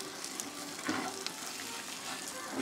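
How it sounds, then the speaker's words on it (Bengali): Boiled elephant foot yam frying with onions in a pan, a steady broadband sizzle with occasional stirring scrapes and crackles throughout, close and fairly loud with no talking. "এবার আমরা আমাদের যে সেদ্ধ ওলটা ছিল এর মধ্যে এটাকে দিয়ে দেবো, দিয়ে আমরা সব শুদ্ধ পেঁয়াজের সঙ্গে এটাকে একটু ভালো করে ভেজে নেব"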